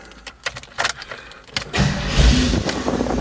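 Keys jangle and click near the ignition, then a 1984 Toyota Land Cruiser FJ60 rock crawler engine cranks and catches, settling into a low steady idle.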